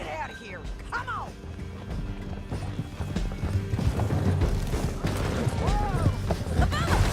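A horse gallops in Red Dead Redemption 2, its hoofbeats loud and continuous, with whinnies and distant gunfire mixed in while game characters talk over it.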